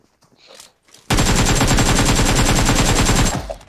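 Sustained automatic gunfire in the mobile battle royale game BGMI, a loud, rapid burst lasting over two seconds after a short quiet lead-in, heard alone without talk.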